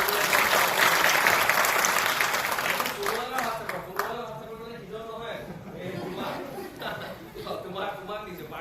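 Dense applause from a crowd at a senior students' farewell ceremony at Dibrugarh University, loud and steady for about three seconds, then fading as someone talks with scattered chuckles from the audience.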